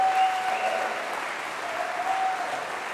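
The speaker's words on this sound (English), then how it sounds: "Can we have another round of applause for these great singers?" An audience at a summer concert by the River City Chorale gives the singers steady, dense applause throughout, with a faint tone ringing beneath the clapping.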